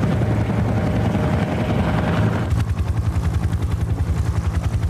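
A helicopter arrives in an anime scene, first as a dense roar, then its rotor settles into a loud, rapid, even chopping pulse close by.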